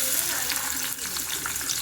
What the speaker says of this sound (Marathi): आपण आता कांदा ह्याच्यामध्ये फोडणीला टाकूया.